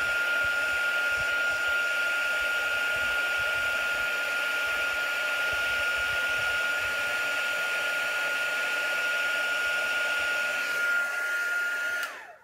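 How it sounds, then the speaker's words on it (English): Heat tool blowing steadily to melt embossing powder on acetate card, a constant fan hum with a high whine that holds for about twelve seconds before the motor cuts off and winds down at the end. "I heat the top and then I work downwards"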